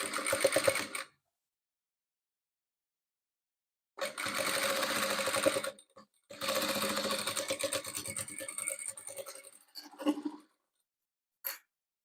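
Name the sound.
sewing machine stitching patchwork pieces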